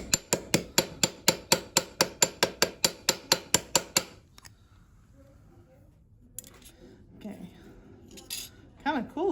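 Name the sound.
curved hammer striking metal sheet for fold forming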